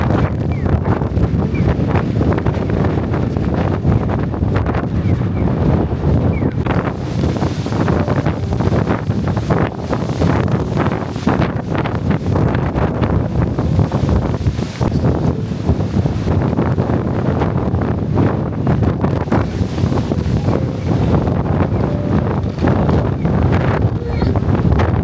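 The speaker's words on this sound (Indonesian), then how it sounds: "Angin bertiup kuat membentuk lorong angin yang berusaha mendorong setiap orang dalam area tersebut." Strong wind gusts through a wind tunnel at Sakuragicho in Yokohama, a loud, constant rushing roar with buffeting against the microphone and no pauses.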